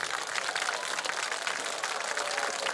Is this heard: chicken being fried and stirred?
no